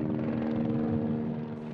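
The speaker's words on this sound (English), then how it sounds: "Here comes a Border Patrol helicopter." A Border Patrol helicopter passes overhead near the US-Mexico border wall, its rotor thumping in a steady, fairly loud drone with a low pulsing tone that fades slightly at the end.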